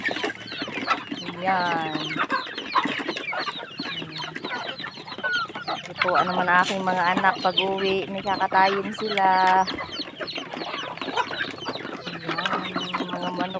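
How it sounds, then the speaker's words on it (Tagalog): Farm chickens cluck and squawk in bursts, close and lively, while someone speaks Filipino over them. "Ayan, mga manok ko, katuwa oh."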